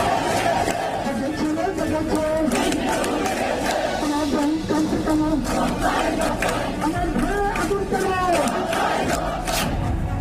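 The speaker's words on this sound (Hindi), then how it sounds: "अब वहां पर हरे रामा हरे कृष्णा की गूंज सुनाई दे रही है।" A large crowd of Hindus at a protest in Bangladesh chants Hare Rama Hare Krishna in loud, rhythmic unison, with dense massed voices sustained throughout and the general din of the gathering underneath.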